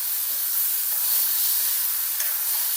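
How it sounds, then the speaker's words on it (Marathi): Soaked moong dal fries in hot oil in a pan, giving a steady, close, even sizzling hiss throughout, with no talking. "डाळीला छान भाजायचं तेलामध्ये।"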